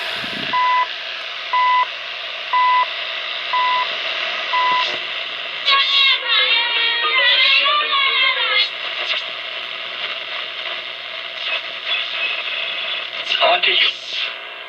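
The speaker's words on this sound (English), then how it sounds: "CHU Canada, you can tell by the beep." The CHU Canada time signal comes through a 1938 Zenith 9-S-232 radio as a row of short, evenly spaced beeps about once a second. Warbling tuning noise and static follow, with a voice talking over the hiss.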